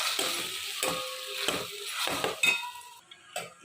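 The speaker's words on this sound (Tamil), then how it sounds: "இந்த பேஸ்ட்டையும் இதோட ஊற்றி ஒரு வதக்கு வதக்கிடுங்க" Ground spice paste sautéing for roadside-cart style sambar, a steady close sizzle in a pan broken by repeated stirring scrapes and a few light utensil clinks.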